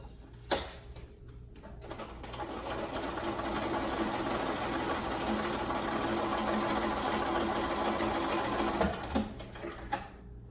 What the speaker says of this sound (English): I'm gonna sew right on that diagonal line